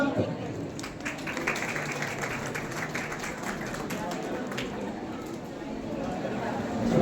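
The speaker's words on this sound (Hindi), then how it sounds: "एक बार जोरदार तालियां।" An audience at a Women's Day celebration claps steadily, a dense, continuous patter of applause heard under a speaker's voice for the whole stretch.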